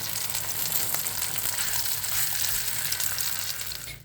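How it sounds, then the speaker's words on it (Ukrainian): Boiled sausage sizzles steadily as it fries in a hot pan, a dense crackling hiss with small pops, close and continuous, with no voices. "смажу варену ковбасу на вечерю."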